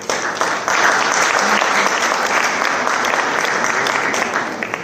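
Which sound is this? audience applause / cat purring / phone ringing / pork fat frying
audience applause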